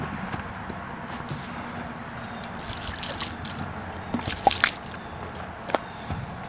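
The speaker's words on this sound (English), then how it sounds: "now splash a little water on there" Water splashed onto a weathered World War 1 veteran's headstone during outdoor cleaning in light rain, heard as soft wet sloshing and dribbling with a few sharper splashes near the end, close by and fairly quiet.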